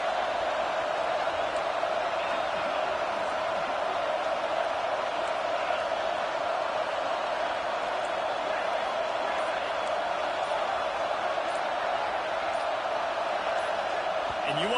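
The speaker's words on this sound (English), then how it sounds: "Man, this crowd really affecting the football game." Loud home stadium crowd roar in an NCAA 26 college football video game, a dense constant wash of noise throughout, with commentary voices talking under it.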